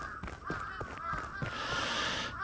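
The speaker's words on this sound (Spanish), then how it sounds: "Hay un montón de pájaros ahí, ¿eh?" Crows caw repeatedly in the Akai Onna horror video game, a loose chorus of harsh calls over a steady ambient background, fairly close and moderately loud, with no talking.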